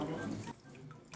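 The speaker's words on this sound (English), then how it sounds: "this one's actually a flushing toilet" Water runs and trickles through a small model flushing toilet circulated by a water pump, a faint close splashing flow that eases off partway through.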